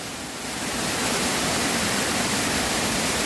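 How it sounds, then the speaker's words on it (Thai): Than Sawan waterfall pours with a loud, steady rushing roar of falling water, dense and unbroken from start to finish. "น้ำตกสวยมากค่ะน้ำตกทางสวรรค์นะคะ"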